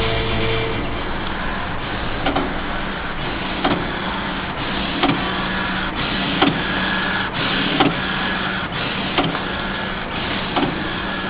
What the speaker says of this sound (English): we heard the sound of printing machine